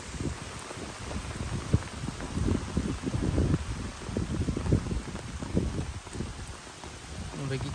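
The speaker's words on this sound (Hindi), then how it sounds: "फिर से बारिश स्टार्ट हो गई है आज" Rain falls steadily on an open field where harvested groundnuts lie, a soft continuous patter with scattered louder drops, fairly faint and close, with no talk.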